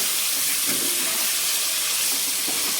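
Paneer cubes fry in hot oil in a pan, a steady loud sizzling hiss that continues without a break and with no voices.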